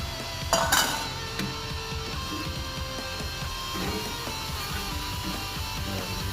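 A spoon scrapes and stirs flour into meat in a pan, opening with a couple of loud metallic clatters, then settling into quieter, continuous mixing sounds against a steady low background.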